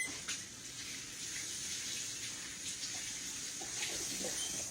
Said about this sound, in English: now let me wash my hands off over here